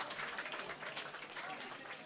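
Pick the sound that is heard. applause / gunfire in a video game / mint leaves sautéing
applause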